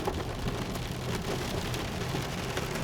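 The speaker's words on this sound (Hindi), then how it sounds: "हाँ ओले गिर रहे हैं, ओले।" Hail and rain pelting down during a thunderstorm in Himachal, a dense, steady patter of hitting ice and drops with faint sharp ticks, fairly quiet and with no voices.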